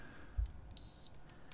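A single steady, high-pitched electronic beep from a multimeter in continuity mode, lasting about a third of a second, clear over a faint background hum.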